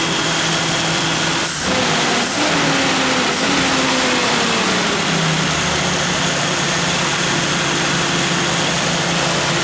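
A Jeep Scrambler engine converted to fuel injection runs loudly and steadily close by, a constant broadband roar with a few sharp clanks early on and a pitch that slowly drifts down.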